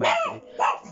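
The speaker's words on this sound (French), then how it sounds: "Pardonnez-moi, c'est juste mon chien qui aboie." Two quick, loud dog barks close by, one right after the other, with no talking.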